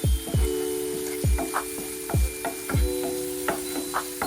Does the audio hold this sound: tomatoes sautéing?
yes